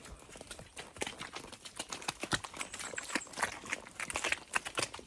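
Lucero the horse walks along a trail in Viñales, Cuba, its hooves making a steady, fairly quick clip-clop of dense, sharp taps close by, with no speech.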